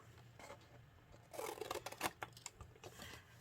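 Scissors snip through a paper tab on a small handmade roll-up box, a few quiet, close crisp cuts in a short burst over a faint background hum.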